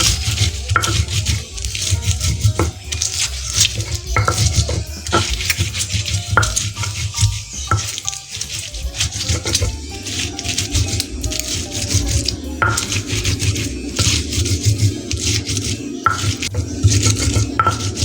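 Bird's eye chilies pounded in a mortar and pestle, a steady dense run of close, loud grinding and scraping strokes with clattering hits that continues throughout without talk.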